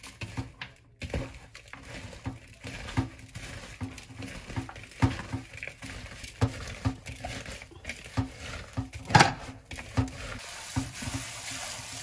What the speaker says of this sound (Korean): 소금을 넣고 씻어.